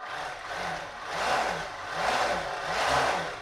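Small electric motors turning the driveline of a radio-controlled Type II U-boat model, a close, faint whirring hum that rises and falls in gentle surges as the throttle is eased forward.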